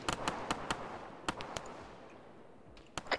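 A grenade blast at an enemy camp in Arma 3, heard as a burst of sharp, cracking bangs spaced unevenly over a low rumble, fairly close, with no voices.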